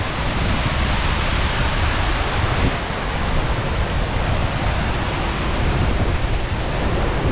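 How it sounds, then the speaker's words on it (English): Steady, loud roar of a waterfall mixed with wind buffeting the microphone on a desert hiking trail near Tucson, Arizona, a constant broadband rush with no voices. "Sorry for the wind and the waterfall noise."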